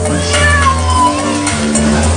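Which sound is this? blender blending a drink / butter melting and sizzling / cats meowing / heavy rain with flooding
cats meowing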